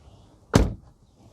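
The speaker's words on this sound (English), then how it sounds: "Let's close the door." A single solid thud as the door of a 2019 Jeep Compass swings shut, a short close, loud slam against a quiet cabin background, with no voices.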